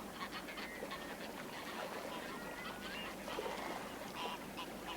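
Greylag geese, heavy waterfowl, land with honking calls scattered over a dense wash of outdoor noise, the calls moderately distant and irregular across the scene.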